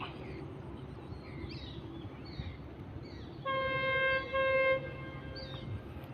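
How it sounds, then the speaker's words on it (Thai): A freight train's horn sounds two sustained blasts in the distance over the low rumble of the passing train, on Thailand's eastern line toward Laem Chabang port. "ได้ยินเสียงขบวน 848 นะครับ"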